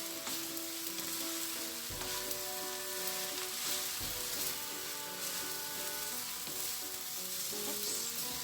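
Bihon guisado rice noodles with luncheon meat and oyster sauce stir-fried in a pan, giving a steady loud sizzle throughout with a few sharp clanks of the utensil scraping and tossing the noodles.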